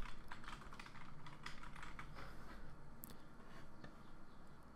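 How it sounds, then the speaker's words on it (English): Quick typing on a computer keyboard, a rapid run of light clicks close by, with no talk. "go to the start button and type in command prompt"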